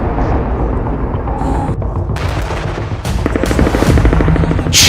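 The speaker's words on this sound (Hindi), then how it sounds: "खान यूनिस पर खूनी हवाई हमले।" Air strike explosions over Khan Younis, heavy booms and rumbling blasts layered over a constant roar, with sharper crackling bursts toward the end, loud and close.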